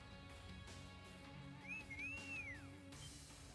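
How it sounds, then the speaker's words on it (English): A game character whistles in a cutscene: a single faint, rising-and-falling whistled tone of about a second, set over a quiet bed of background score. "Why do you whistle?"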